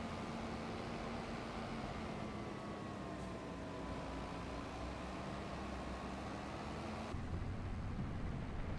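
Tractor engine from a farming video game, a steady low drone with a droning hum that runs evenly throughout, shifting slightly near the end, with no talk over it.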